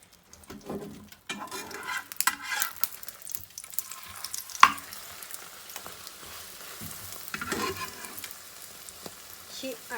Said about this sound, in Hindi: और अंडों को तल लूंगी।